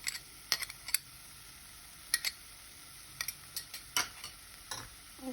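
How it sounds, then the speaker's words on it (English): Onion and garlic in hot oil in a skillet give a soft, steady sizzle, broken by a series of sharp utensil clicks and scrapes as they are stirred. "Once your oil is hot, go ahead and add your onion"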